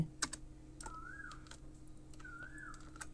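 Someone types a channel name on a computer keyboard: a short run of soft, close key taps, spaced unevenly, in a quiet room with a faint hum behind.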